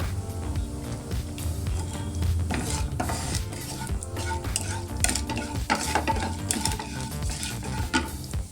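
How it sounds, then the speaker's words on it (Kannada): Chopped onion sizzles and fries in a hot tempering for Karnataka-style baingan bharta, with steady close stirring and scraping of a spoon against the pan, punctuated by metallic clinks throughout. "ಈಗ ಈರುಳ್ಳಿ ಹಾಕ್ತಾ ಇದ್ದೀನಿ."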